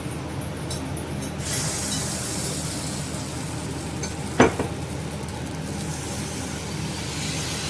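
Appam batter sizzles in a hot appam pan, a steady close crackling hiss that runs continuously, with a brief sharp clink partway through.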